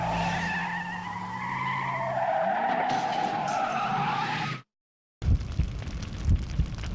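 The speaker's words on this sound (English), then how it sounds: "Makoto loses control of his car" Racing-game car skidding out of control in a Squaresoft title: a long, loud tire squeal with engine drone runs for about four and a half seconds, then cuts to silence before a rougher burst of crashing noise.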